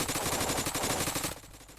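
Rapid automatic gunfire from the blocky online shooter Blockpost, a dense rattling burst of shots that runs steadily then cuts off abruptly, leaving a quieter tail.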